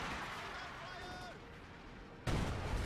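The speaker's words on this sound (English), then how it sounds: "ML20 firing." Deep boom of an ML-20 howitzer firing in the World War II strategy game Company of Heroes 2, a single heavy blast near the end over a continuous din of battle noise.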